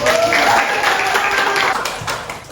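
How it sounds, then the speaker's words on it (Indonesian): Applause breaks out for a presenter during a school class project presentation, a steady wash of many hands clapping at moderate distance for a couple of seconds, fading slightly toward the end. "Applause for Aul."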